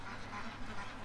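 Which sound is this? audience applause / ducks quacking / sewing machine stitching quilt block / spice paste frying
ducks quacking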